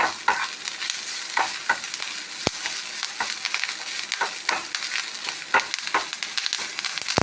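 Curry leaves fry in a pan for garlic chutney powder, a steady close sizzle broken by occasional stirring scrapes and clicks, with no voices.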